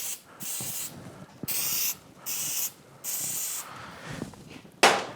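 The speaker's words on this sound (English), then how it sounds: "we're going to spray them down with a little bit of silicone." Several short bursts of silicone spray from an aerosol can during a Yamaha F225 outboard powerhead rebuild, each a sharp hiss lasting about half a second, separated by brief pauses and handling noise.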